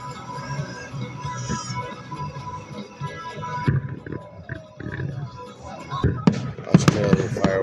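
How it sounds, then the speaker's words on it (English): A fireworks display in Australia booms and crackles, with repeated loud pops and rumbling bursts over a constant din, while people's voices mingle in the background. "Australia fireworks"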